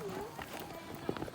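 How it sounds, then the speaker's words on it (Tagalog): Horse hooves clip-clop on a street in Antipolo City, a few light hoofbeats close by under people talking nearby. "Kabayo. Ayun ang kabayo."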